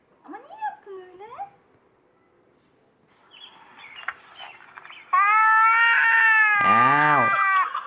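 A cat meows and yowls loudly near the end, with sustained harmonic wails and a falling cry, after a stretch of quieter sounds and someone talking at the start.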